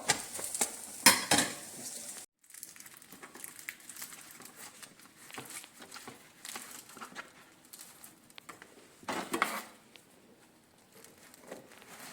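A chapati frying in oil on a pan: soft, close sizzling with light scraping and clinks of a utensil against the pan, a few louder bursts, and some quiet gaps.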